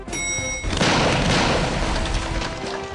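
An ostrich egg bursting inside a microwave oven: a sudden loud boom with a heavy thud after a faint hum, then a rumbling decay over a couple of seconds, with no talking.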